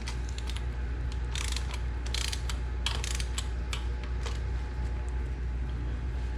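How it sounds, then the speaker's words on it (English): A torque wrench ratcheting on the engine head bolts of an R32 GTR, in bursts of rapid clicking separated by short pauses, up close over a low steady hum. "I'm going to torque everything to 7 foot-pounds of torque"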